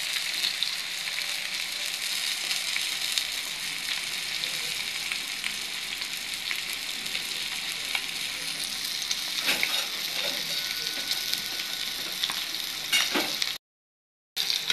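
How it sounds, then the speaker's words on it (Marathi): Rohu fish coated in rava sizzles steadily in a frying pan, a dense continuous crackle with a few sharper pops, close and fairly loud, with no voices. "अशा प्रकारे इथं आपल्याला मच्छी फ्राय करून घ्यायची आहे"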